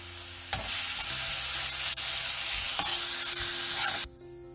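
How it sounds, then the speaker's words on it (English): Onions fry in a little oil in a kadai for dal tadka, a bright continuous sizzle up close with a couple of sharp stirring knocks, stopping abruptly at the end. "So I'll add onions to this. Fry till they become little golden brown."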